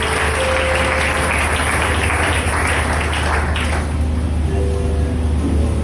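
A church congregation acclaiming the Lord, a sustained wash of cheering and applause that fills the space, loud and even, then thins and softens toward the end.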